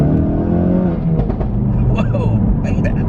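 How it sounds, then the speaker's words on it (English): A car's engine revs hard as the accelerator is floored in a modified 2020 model, a loud rising roar up close with the driver talking over it. "if I drop it down here a little bit and floor it"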